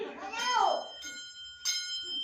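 A small brass bell shaped like a cow or old school bell rings out twice with bright, sustained tones, following a brief higher sweeping sound at the start, moderately quiet and close.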